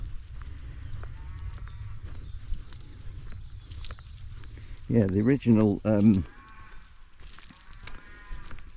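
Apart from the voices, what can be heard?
cattle mooing on a fen walk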